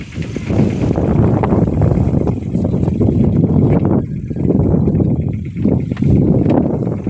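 A tractor engine chugs steadily along a road, its low rumble loud and close with rhythmic clattering and some wind buffeting.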